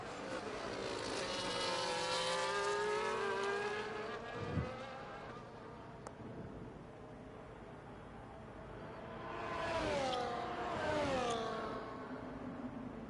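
F1 race cars in a racing video game tear down a straightaway at the Brazilian Grand Prix, one slipstreaming an Aston Martin: high, rising engine whines swell past, fade, then a second close pass screams by.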